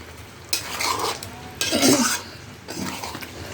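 Chicken cooking over low gas in a pot, stirred in three separate bursts of scraping and clattering utensil strokes against the pot, close and clear.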